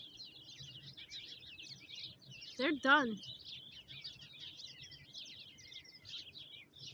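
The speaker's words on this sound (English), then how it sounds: "You hear these birds singing away?" Baby finches chirp and twitter continuously in a high, fast chatter, moderately near, while a person briefly speaks over them partway through.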